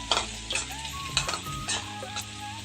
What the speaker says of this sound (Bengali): এই আলু ভাজা আলু ভাজা করতেছি